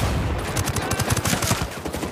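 Rapid bursts of video game gunfire crack out in a dense, continuous volley close up, layered shots blending into a steady rattle with no voices over them.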